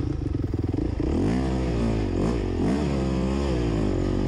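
An enduro motorcycle runs at full throttle through slippery spring mud in second gear, its loud engine droning and surging close by without a break.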